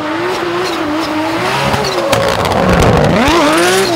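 A Nissan 370Z race car drifts on a track, its engine revving loudly with rising and falling pitch while the tires squeal continuously throughout.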